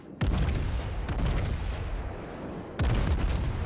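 Naval guns in a warship battle game fire in three heavy booming salvos, each with a sharp onset and a long rumbling tail, with no talk.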